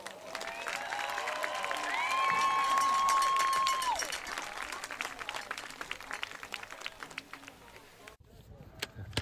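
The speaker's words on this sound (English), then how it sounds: "Please join me in a round of applause." Crowd applause at a high school football event honoring the class of 2026, a broad, steady wash of clapping and cheering that swells and holds for several seconds, with a sustained whistle-like tone in the middle, then thins out.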